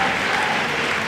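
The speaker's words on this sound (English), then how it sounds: "So a round of applause for him." At a music workshop, an audience gives a dense, even burst of applause for a guitarist, a short and fairly loud wash of clapping with no one talking.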